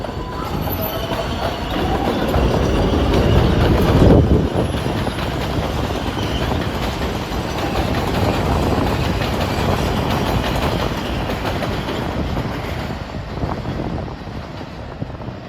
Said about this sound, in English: approaching is an express train